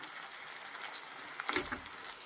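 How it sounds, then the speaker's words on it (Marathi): A spiced masala filling of sprouted matki sautés in a pan with a soft, low sizzle and a brief stir-scrape clatter midway, quiet and close, with no talking. "कमीत कमी आपल्याला दोन ते तीन मिनटं हे सारण परतून घ्यायचं आहे"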